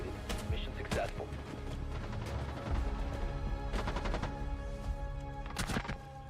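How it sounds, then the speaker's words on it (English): Rapid automatic gunfire bursts crack repeatedly in the Rainbow Six Siege video game, loud bursts standing out over a dense, busy mix of game sounds. "That gun sounds meaty."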